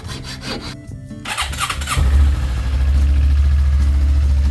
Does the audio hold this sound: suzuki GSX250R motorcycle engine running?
yes